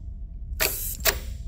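Two short, sharp hisses of compressed air actuating a diaphragm valve on a supercharged Jeep Wrangler, close up, about half a second apart in an otherwise quiet space.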